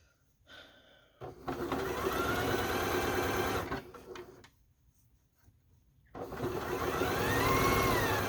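A sewing machine stitches jelly roll quilt strips in two loud, sustained runs of close mechanical whirring, separated by a short pause.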